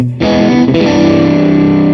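Electric guitar played through a Vox AC30 amp plugin on the second pickup position, a strummed chord with a jangly, slightly distorted ring. It strikes loud and close and sustains, with a brief re-strum partway through and no talk.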